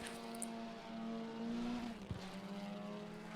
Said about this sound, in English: Revving the engine as well.